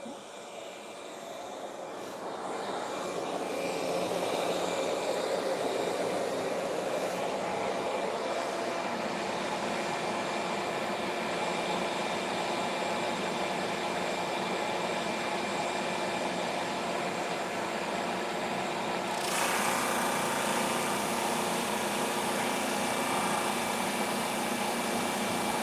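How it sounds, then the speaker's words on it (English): A power sander works across a glued-up wooden cutting board, its motor spinning up and then holding a steady, loud grinding whir, with a sharper rise in hiss near the end as the board passes through. "I run that through that sander,"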